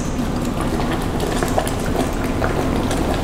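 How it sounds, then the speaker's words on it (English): A pot of liquid boils vigorously, a steady churning bubble and hiss with small pops scattered throughout, close by and continuous. "As you can see, that is really bubbling away."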